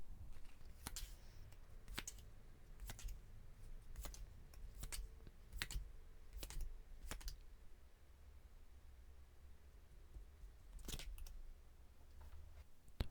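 Tarot cards are drawn one by one at a quiet table, giving about a dozen crisp, sharp snaps and flicks spaced irregularly over a faint background hiss.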